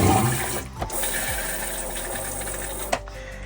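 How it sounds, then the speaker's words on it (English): An RV toilet flushes with a loud, continuous rush of water, shifting in tone partway through, then ending with a brief clunk, with no talking. "And you flush it down."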